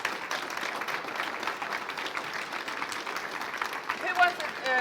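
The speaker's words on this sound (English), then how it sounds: "Give him another round of applause." An audience gives another round of applause after an interview at an event, moderately loud clapping mixed with crowd voices and some talk.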